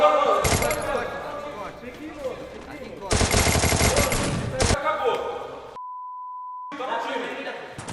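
Free Fire video game gunfire: rapid bursts of automatic shots crackle in dense, loud clusters, broken by gaps and a steady electronic beep, while players talk excitedly over the action.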